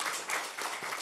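Applause at a Democratic Party supreme council leadership meeting, a short, steady burst of many hands clapping together with no break, fairly even in loudness throughout.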